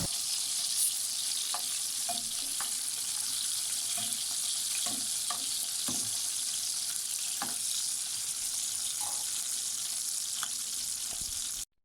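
Sliced eggplant fries steadily in a hot pan with a dense, even sizzle, while scattered soft knocks and scrapes come as the pieces are turned over.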